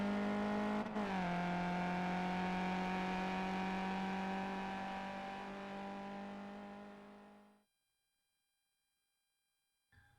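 A race car engine held at full throttle on the run to the line at Laguna Seca, a loud sustained roar with a gear change early on, then cutting off abruptly into silence.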